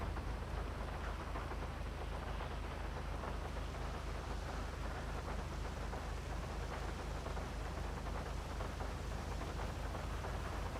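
Steady rain falls in GTA Online, a continuous hiss of light rainfall with a faint low rumble beneath, even and unbroken throughout with no voices.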